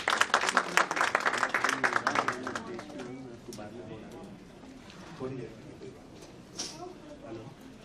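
Audience applause at an Urdu poetry gathering, a burst of clapping loud at first that fades over a few seconds into scattered claps and murmuring, with a voice speaking faintly beneath.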